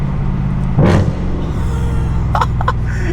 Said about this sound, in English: these rev matching downshifts